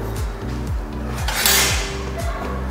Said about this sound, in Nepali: बिर्को लगाउने।